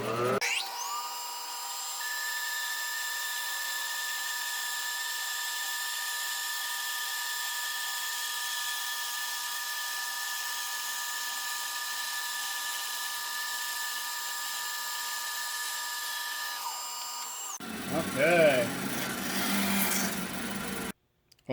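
A bandsaw runs with a long, steady high-pitched whine and tonal hum as it cuts through a wooden bowl blank for a Celtic knot pattern. The tone shifts at the end into rougher clattering noise, and then the sound stops abruptly.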